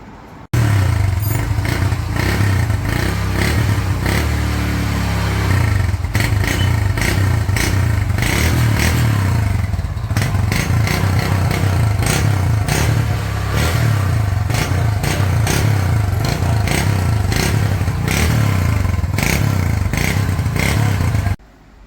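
A 1987 Japanese-made Hero Honda CD 100 motorcycle, freshly restored, starts and idles close by with a steady low engine thrum and light mechanical clatter, running continuously for about twenty seconds with no speech.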